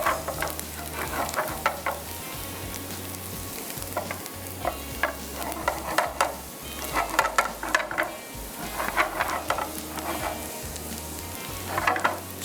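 Spices being stirred and roasted in a hot pan while cooking mutton with rice, a steady sizzle with repeated scraping stir strokes, close and continuous with no talking.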